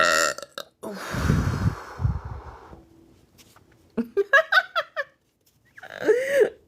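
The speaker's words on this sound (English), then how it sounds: "Beer burps are good" Several loud, drawn-out burps after drinking beer, some low and rumbling, others short and croaky, coming in quick bursts close to the mic.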